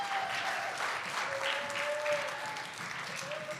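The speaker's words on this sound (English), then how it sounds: "Let's give a round of applause for Mr. Ford's Model T." An audience applauds steadily throughout, a dense wash of clapping at moderate level, honoring a demonstration of a Ford Model T at a historical event, with a faint tone running beneath.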